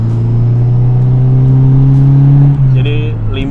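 Sports drag car engine driving on the Sentul race circuit, a loud steady mid-pitched drone that holds and then drops slightly in pitch, heard up close from inside the car.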